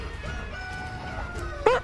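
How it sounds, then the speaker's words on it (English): A chicken clucks in the video game Battlerite, a short, loud squawk bursting out near the end over a steady game soundscape of low hum and tonal background music. "Chicken."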